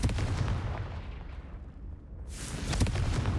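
A Confringo fire spell cast in Hogwarts Legacy, a heavy booming blast with a rumbling, crackling fiery burst that swells again near the end, loud and without speech.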